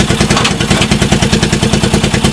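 A Honda TRX200SX ATV engine runs close by with a rapid, steady clattering idle that pulses evenly throughout, no voices over it.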